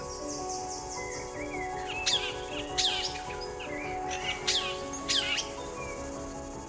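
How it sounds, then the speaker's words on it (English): Harsh, loud screeches of a tooth-billed bowerbird repeat at irregular intervals over a steady backdrop of forest insects and softer chirps in a North Queensland rainforest. "this tooth-billed bowerbird that screeches in the background."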